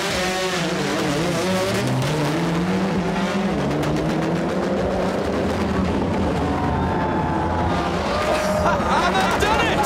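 Hot Wheels stunt cars at the X Games racing around a real-life double loop and jumping, with loud roaring engines and rising revs throughout, under a crowd and excited commentary voice.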